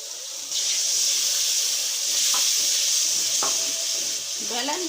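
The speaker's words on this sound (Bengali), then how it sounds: "এখন খুব সুন্দর করে এটাকে কষিয়ে নিচ্ছি।" Chicken masala with Kashmiri chilli powder sautéing in a pan, a steady close sizzle with a few stirring scrapes and a brief watery gurgle near the end, no talking.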